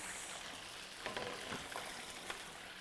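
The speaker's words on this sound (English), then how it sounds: "I'm just going to add my fish to my oil" Pre-seasoned fish fries in hot oil, a steady close sizzle with faint crackles and a few soft stirring clicks, no talking.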